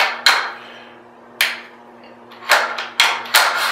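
A Remington 700 bolt slides and locks into an AICS chassis, giving several sharp metallic clacks spaced unevenly, close and loud with quiet gaps between.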